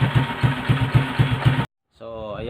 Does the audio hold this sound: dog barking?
no